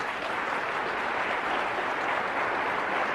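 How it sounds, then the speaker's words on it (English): A lecture hall audience breaks into sustained applause, a thick even roar of clapping that holds at a steady loud level from start to finish. "Yeah, you can applaud."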